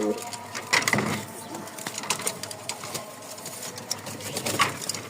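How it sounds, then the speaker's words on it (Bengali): Male pigeon cooing in a pigeon seller's loft in Mirpur, Dhaka: soft repeated coos among rustling and shuffling noises, with other birds and a voice faintly in the background. "নরের এবার ডাকটা দেখেন"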